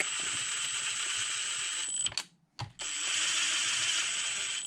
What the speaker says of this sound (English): the impact gun is set to very light, and I'm not even letting it click.